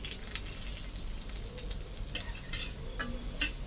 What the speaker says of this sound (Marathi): असं सतत हलवत आपल्याला एकसारखा असा ब्राऊन रंगावरती रवा भाजून घ्यायचा आहे